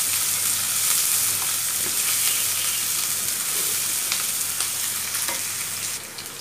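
Onions sizzling in hot oil while being stirred continuously until reddish, a steady close frying hiss with intermittent scraping strokes, no speech.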